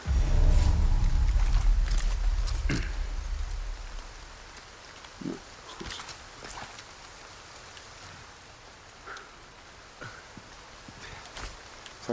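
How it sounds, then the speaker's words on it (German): Rain falling in the video game Resident Evil 4 Remake, a steady wash of patter, heavier at first then thinning to a quieter hiss with scattered drops and taps. "Ich versuche über dem Regengeräusch zu hören"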